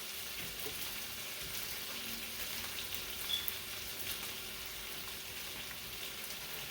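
Chicken and shrimp fry together in a pan, giving a steady, even sizzle that crackles throughout at moderate loudness, with no voices.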